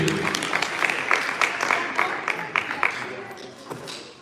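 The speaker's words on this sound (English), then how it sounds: "Another round of applause, ladies and gentlemen." Audience applause at a basketball team draft event, a steady wash of clapping with sharper individual claps standing out, fading slightly toward the end, with faint voices mixed underneath.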